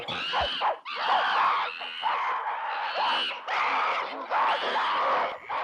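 A band of apes screeching at each other at a water hole in the film 2001: A Space Odyssey, harsh overlapping shrieks and cries in repeated loud bursts.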